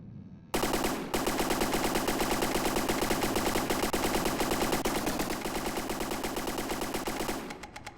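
A rapid-fire gun in the naval combat game From the Depths unleashes one sustained, loud burst of closely spaced shots lasting about seven seconds, starting abruptly after a brief lead-in and tapering off at the end.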